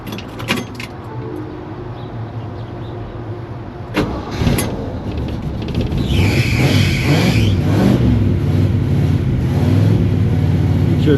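A Jeep J20 engine cranks and catches around the midpoint, then settles into a steady, loud idle with revving, preceded by a few brief clicks and clunks.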